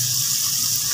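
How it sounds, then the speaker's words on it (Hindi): A little water is poured into spiced coriander in a hot pan while cooking a baingan chana daal curry, giving a loud continuous sizzling hiss and gush for the whole moment. "तो अब हम इसमें डाल देते हैं ये पानी थोड़ा सा।"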